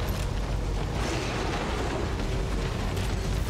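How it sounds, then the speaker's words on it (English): A grenade blast in the horror game The Evil Within, a loud, dense rumbling roar of explosion noise that fills the whole clip with no break and no voices. "Throw grenades."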